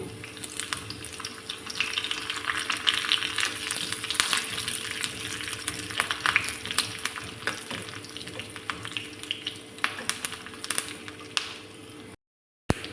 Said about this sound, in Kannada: ಬೆಳ್ಳುಳ್ಳಿ ಸ್ವಲ್ಪ ಫ್ರೈ ಆಗಲಿ ಆವಾಗ ಕರಿಬೇವು ಹಾಕುವ